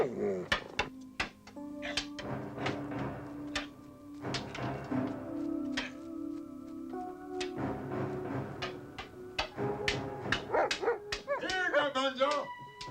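Dog barking in a 1986 horror film, repeated short barks and yips over a continuous music score with clattering hits, no clear speech between them.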